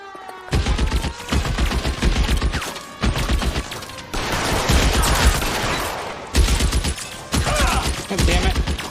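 Sustained bursts of automatic gunfire in a firefight, dense rapid shots in several long volleys with brief gaps, loud and close, with shouted voices mixed in.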